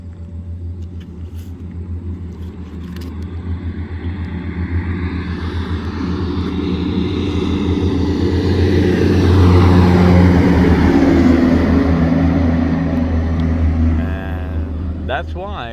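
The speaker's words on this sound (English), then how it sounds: "these monster trucks are going by, and it shakes the whole ground, everything" Large harvesting trucks drive past, their deep, ground-shaking rumble building slowly to a loud peak before easing off again over several seconds.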